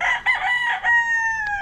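A Kelso gamecock rooster, a Machine Kelso crossed with Gilmore Hatch, lets out a single close, loud crow in a few rising bursts that ends in a long held tone.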